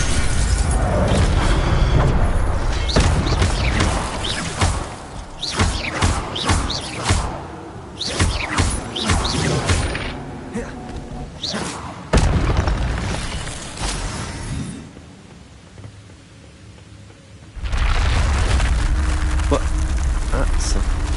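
Incendio fire spell and Protego shield being cast in the Hogwarts Legacy video game: crackling bursts and booming impacts over steady background noise, with rumbling hits, a brief quieter lull and a voice calling spell names.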